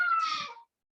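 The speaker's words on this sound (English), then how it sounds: "again, I'm sorry about my cat." A house cat lets out one short meow, clear and fairly close, with quiet before and after.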